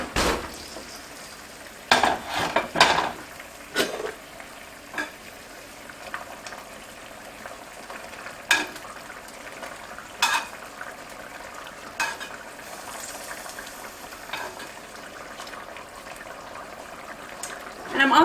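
Beef medallions sizzle and simmer in a mushroom pan sauce, a steady soft frying hiss broken by sharp clinks and scrapes of a utensil against the pan, with a voice talking at times over the cooking.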